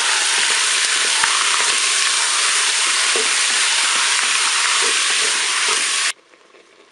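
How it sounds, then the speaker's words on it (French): Beef pieces searing in a Cookeo pressure cooker, a loud, close, continuous hissing sizzle with faint scrapes that stops abruptly near the end, no voices. "Je vais pouvoir ajouter mes morceaux de viande."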